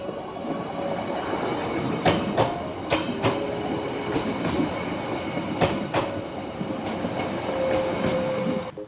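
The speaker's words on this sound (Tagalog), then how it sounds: "May dadaan na. Beach train na." The beach train at Haeundae Blue Line Park in Busan rolls past nearby, a loud continuous rumble with sharp rail clacks and faint wheel squeals.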